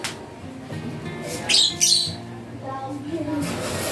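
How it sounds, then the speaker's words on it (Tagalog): A tame pet bird gives a couple of short, sharp squawking calls near the middle, set against a steady background of voice-like tones and room noise. "ito yung paborito kong ibon"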